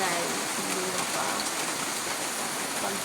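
Rain falls steadily as a dense, even hiss that stays constant throughout, with no clear voices over it.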